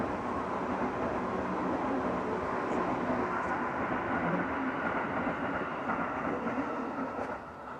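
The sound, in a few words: train passing by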